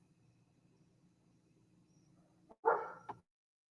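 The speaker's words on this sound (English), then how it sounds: "he is a good guard dog" A dog gives a short burst of barking, one loud bark and a quicker second yelp near the end, sounding close by after a stretch of low room hum.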